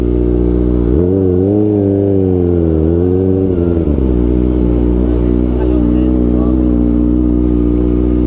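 Motorcycle engine rumbling loud and close during a ride, with a deep steady drone that swells as the throttle rises and then settles, under occasional talk.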